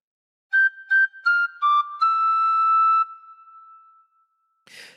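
A tin whistle plays a short Jingle Bells phrase: three pairs of quick repeated notes and a stepping run, ending on one long held tone that fades, alone with no talk.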